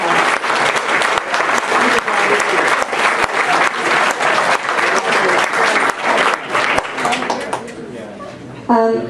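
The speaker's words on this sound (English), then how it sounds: "big round of applause." A reunion crowd gives a big round of applause for honored people, loud sustained clapping with scattered sharp claps and crowd noise, tapering off near the end as a voice begins.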